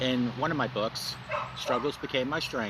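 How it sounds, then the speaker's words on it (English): A dog yips and barks intermittently in the background while someone speaks steadily over it, the short high barks breaking through between his words. "Sorry about the dog in the background."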